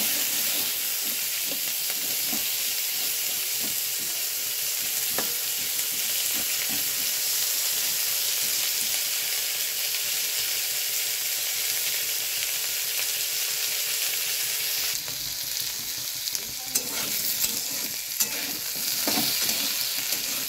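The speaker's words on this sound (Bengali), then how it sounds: "তেল গরম হয়ে গেছে, এবার আমি আলুটা দিয়ে দিলাম। এবার আলুটা একটু ভেজে নেব।" Potatoes fry in hot oil in a pan, a loud, continuous close sizzle and hiss lasting throughout, with occasional stirring clinks and a brighter burst of crackling toward the end.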